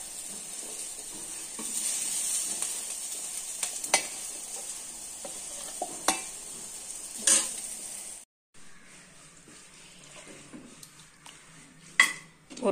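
Ingredients for mutton kulambu sautéing in a hot pan with a steady hiss, broken by scraping stirs and clinks of a utensil against the pan.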